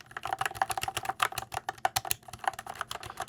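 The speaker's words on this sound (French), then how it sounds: "la particularité, ce sont des switches lubrifiés, c'est bien isolé tout ça, je vous fais tout de suite écouter le bruit" Rapid, steady typing on a high-end mechanical keyboard with lubricated switches, its keystrokes close and distinct in a quick irregular patter with no voices.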